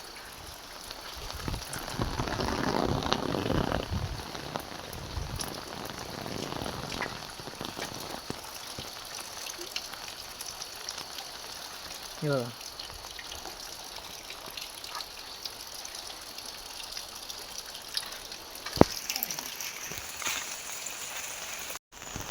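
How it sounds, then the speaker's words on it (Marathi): Heavy monsoon rain in a flooded Konkan area around houses gives a soft continuous rushing wash of falling and flowing water, fairly quiet and steady, with a brief spoken word in the middle. "कशाप्रमाणे अत्यंत मोठ्या मुसळधार पावसामुळे पाणी आलेले आहे"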